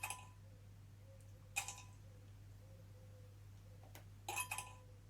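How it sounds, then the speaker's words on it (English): Ice cubes clink against a glass in a few sharp, sparse bursts, quiet and close, separated by near silence over a steady low hum. "It's ice cubes in a glass"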